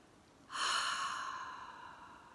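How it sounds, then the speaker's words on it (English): One deep breath, a long airy exhale that swells quickly and then slowly fades, close and alone during a calm relaxation exercise. "Let's take a deep breath."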